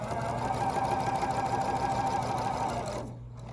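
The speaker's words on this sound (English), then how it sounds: "I go ahead and start sewing that" A sewing machine runs steadily, stitching fabric along a seam in a continuous whirring rhythm for a few seconds before slowing and stopping near the end.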